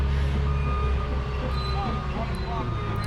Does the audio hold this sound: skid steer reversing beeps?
yes